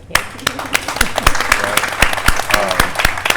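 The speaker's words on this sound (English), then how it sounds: "So you cannot applaud this woman enough" Applause from an audience at a New York panel, with sharp individual claps standing out close by over a busier crowd of hands, fairly loud and irregular.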